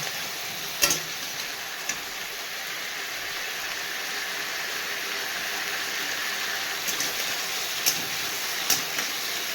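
Fish rubbed with turmeric and salt fries in a pan with a steady, even sizzle throughout, with a few sharp pops and clinks standing out now and then.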